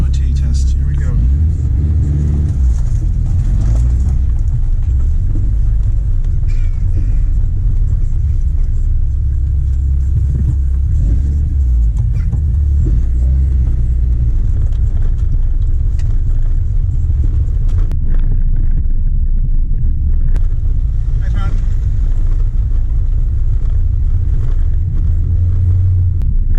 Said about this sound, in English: We are on our way, first ever drive of the Elan to its MOT test.